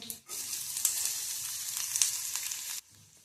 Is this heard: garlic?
yes